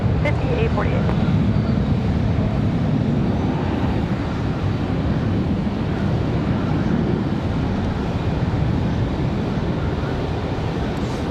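A Republic Airways airliner, flight 5848, departs Raleigh-Durham International on a windy day, its engines giving a broad, steady roar heard at a distance amid gusting wind, with some voices present.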